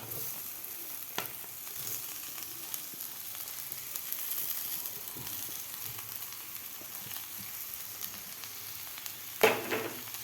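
Mashed potato for vada pav is stirred into a hot tempered masala in a pan, giving a steady low sizzle with soft scraping from the stirring and no talk.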